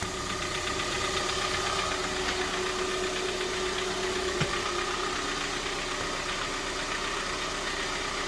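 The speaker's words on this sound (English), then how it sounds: "our engine was just running" A car engine idles steadily with a continuous low rumble and faint ticking, close by and unchanging throughout.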